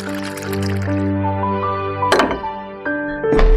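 Water poured into a glass at home, a rising liquid fill with a few splashy thunks, close and fairly clear with no talk.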